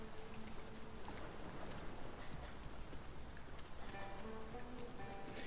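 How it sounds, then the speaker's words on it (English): Steady rain falling in the fantasy game Dragon's Dogma 2, a faint, even patter and hiss of drops on surfaces throughout, with no talking. "Tis raining."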